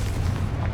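Fiery Confringo spell explosion in Hogwarts Legacy, a brief, loud, deep booming rumble that fills the short moment without letup.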